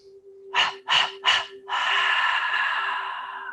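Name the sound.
quick exhales through the mouth in a breathing exercise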